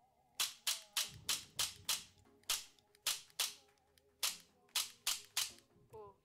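Hi Capa airsoft pistol being dry fired, a run of about fifteen sharp, close metallic snaps in uneven succession with no talk.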